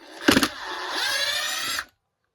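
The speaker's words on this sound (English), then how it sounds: "Now I'm going to try to get all these unscrewed" A RIDGID 18V impact driver (R86002) whirs up after a quick burst of clicks, spins with a steady rising whine for about a second and a half, then cuts off abruptly, loud and close.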